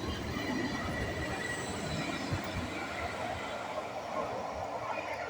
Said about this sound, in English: departing out now is tram 266 off to Edinburgh Airport from Newhaven